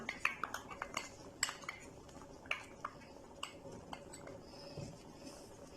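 A spoon stirs ketchup into sweet and sour tamarind chutney in a metal pot, with repeated light clinks and scrapes at an uneven rhythm, close by and fairly quiet.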